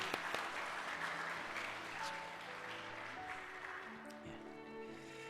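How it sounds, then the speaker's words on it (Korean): A congregation applauds at a Korean Presbyterian church service, a steady sustained clapping that fills the hall at moderate level, with faint voices and some tonal sounds mixed underneath. "박수 한번 쳐드리겠습니다"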